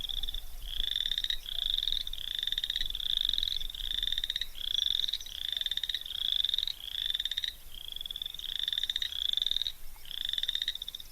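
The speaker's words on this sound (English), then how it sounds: "There are more frog calling." Many frogs call together in a marsh, with bright trilling calls repeating in a steady rhythm about once a second over a faint, dense background chorus.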